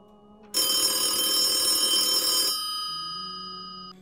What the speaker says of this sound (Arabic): وما إن نهضت من النوم حتى رن الهاتف